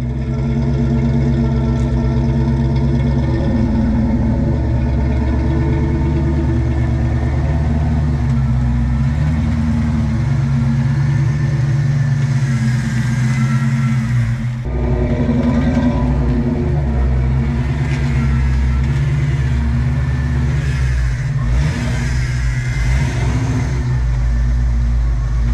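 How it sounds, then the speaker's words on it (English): A car engine runs steadily with a loud, close drone while the car is moved, shifting in tone partway through as it works, with no one talking. "Let's get this car moved so we can see how bright these lights are."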